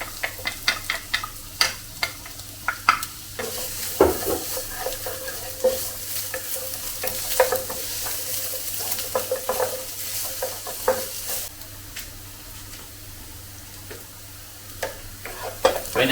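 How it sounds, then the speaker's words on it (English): Onion sautéing in a pan for char siu bao filling: a continuous sizzle broken by frequent scraping and tapping strokes of a spatula, irregular and fairly close, with no one talking. "First we saute some onion"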